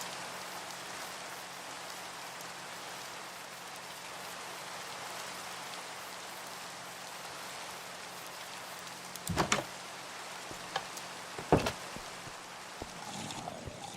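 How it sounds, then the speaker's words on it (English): Rain falls in the Minecraft video game as a steady, even hiss throughout. A few sharp clicks and thumps from gameplay break through in the latter half. "Raining again, or still."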